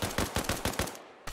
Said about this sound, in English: Those shots were really close.